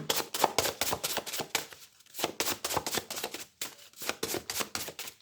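Tarot cards are shuffled and drawn in rapid, close bursts of riffling and flicking, with a couple of brief pauses between rounds.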